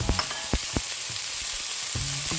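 Chives hit hot oil in a wok for Hong Kong style soy sauce noodles, sizzling in a constant hiss broken by a few sharp crackles and spatula taps.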